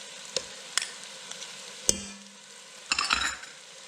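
Tomato paste being stirred into bloomed spices in a pot: a few sharp utensil knocks and scrapes over a soft sizzle, ending in a short burst of stirring.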